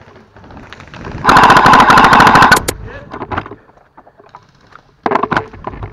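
An airsoft gun fires at an outdoor airsoft field in a loud, rapid full-auto burst lasting over a second, followed by scattered softer clicks and a second short burst near the end.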